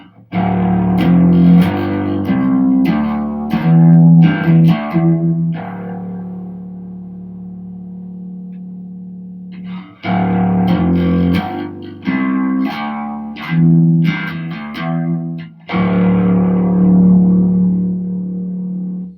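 Heavily distorted bass guitar through a saturation pedal turned all the way up plays a riff, two phrases separated by a brief pause, thick and gritty with a saturated, buzzing edge.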